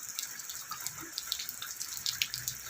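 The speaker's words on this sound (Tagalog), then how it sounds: "Naghuhugas ako ng paa ko." Tap water runs steadily while someone washes their feet outdoors at night, a soft continuous trickle with light splashing throughout.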